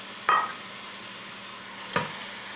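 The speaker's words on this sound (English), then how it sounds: "I'm going to cook the green pepper and onion with it" Green pepper and onion cook in a 4-quart aluminum saucepan, a soft steady sizzle broken by two brief scraping stirs, close and with no talk.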